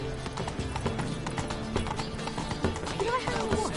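Roach, Geralt's horse in The Witcher 3, gallops with steady rhythmic hoof clip-clops over a busy game soundscape, with voices talking underneath.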